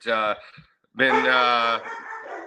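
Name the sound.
dogs barking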